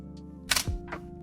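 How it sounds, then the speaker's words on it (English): A camera shutter sound effect clicks once, sharp and close, followed by a fainter second click over a soft low hum. "I'm going to add a camera shutter sound"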